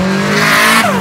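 A Subaru WRX STi street car with a turbo accelerates hard in a loud, close, brief burst, the engine note climbing steadily before a quick shift drops the pitch; no talking.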